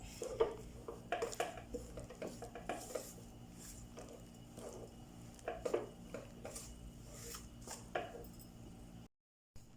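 Kappa (cassava) being mixed with salt in a pan, soft irregular clinks and scrapes of a spoon against the pan with quiet squishing, close and faint, no talking.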